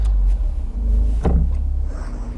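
A Honda S2000 sports car engine turns over and catches with a brief burst, then settles into a deep, close rumble, heard from inside the car.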